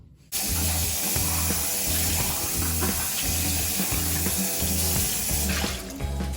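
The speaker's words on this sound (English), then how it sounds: "You can even use tap water, honestly." Tap water runs hard into a sink to rinse a Porsche windshield wiper motor part, a loud, steady hissing splash that starts abruptly, holds for several seconds and dips briefly near the end, with no voices.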